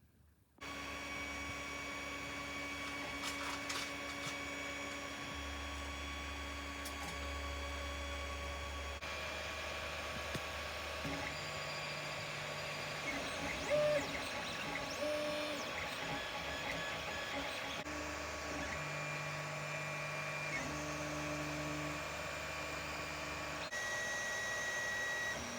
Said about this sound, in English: you're printing that part first before the lid